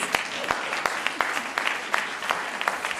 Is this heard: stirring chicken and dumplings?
no